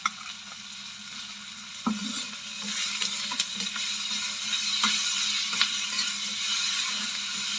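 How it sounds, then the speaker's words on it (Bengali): Potatoes and salt being stirred in a pan for a bean-leaf mash, giving soft scraping strokes with a few sharper knocks of the utensil against the pan over a steady low sizzle. "আবারও নাড়াচাড়া করতে থাকবো।"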